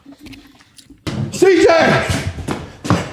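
A single loud slam of an attic door in a dark house, a sharp thud after near silence, followed at once by a panicked voice shouting and further knocks.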